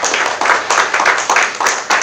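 An audience applauds a presenter walking onto the stage at a startup demo day, with loud, dense clapping that runs steadily and close throughout.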